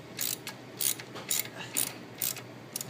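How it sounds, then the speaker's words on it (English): A ratchet wrench with an 18-inch socket cranks out a link bolt on a BMW F650GS Dakar motorcycle: six or so close, rhythmic bursts of rapid clicking, each a short stroke separated by brief pauses. "wrench and our 18-inch socket, is removing the bolt that runs between the links. So simply cranking"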